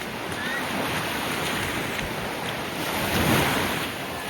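Steady rush of ocean surf washing onto a beach at Playacar, Playa del Carmen, with wind buffeting the microphone and a slight swell in loudness near the end.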